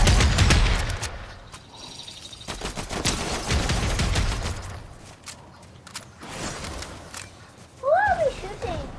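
Rapid bursts of video game gunfire crackle over one another, with several volleys of automatic fire close by while players talk over the shooting.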